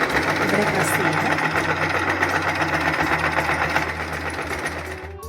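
Close, loud, continuous whirring and rapid rhythmic clatter from a Singer Promise 1409 electric sewing machine stitching in reverse, easing off slightly near the end.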